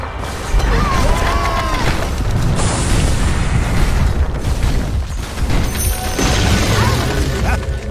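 An enemy tower is destroyed in Dota 2: a heavy booming crash with shattering, mechanical clatter that stays loud and dense over several seconds, with game effects layered on top.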